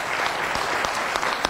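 Applause at a municipal union meeting, a dense, even wash of clapping with a few sharper claps near the end, short and alone without talk.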